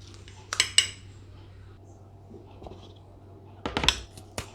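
A salted mixture stirred in a bowl with a metal spoon, a few sharp clinks and scrapes in two short bursts separated by quiet, close and fairly loud, with no talking.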